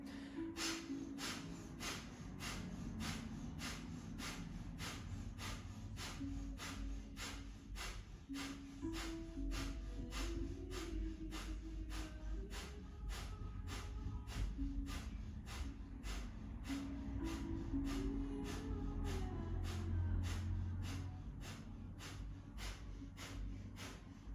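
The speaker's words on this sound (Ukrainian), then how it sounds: "Очищуємо наше дихання, капалабхаті, дихаємо 54 рази." Kapalabhati yoga breathing during a morning practice: forceful nasal exhales in a steady, even rhythm, about two per second, repeat for the whole stretch over a low, constant background hum.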